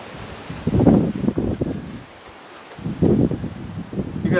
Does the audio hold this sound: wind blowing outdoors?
yes